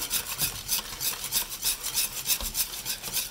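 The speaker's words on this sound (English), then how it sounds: "All you do now is just keep stirring flour in." Flour being stirred into bread dough for rolls, a rhythmic rasping scrape repeating about three times per second, steady and close with no voices.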